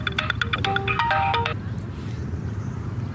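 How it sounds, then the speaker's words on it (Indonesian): A phone ringtone plays a quick electronic melody of bright beeps for about a second and a half, then stops, leaving low background noise. "Angkat dulu bang telepon Kaman."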